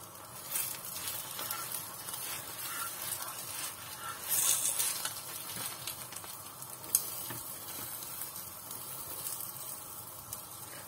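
Raw mince paratha sizzles and crackles steadily on an uneven tawa over a gas flame, a close, continuous frying hiss with occasional louder pops and bursts, no voices.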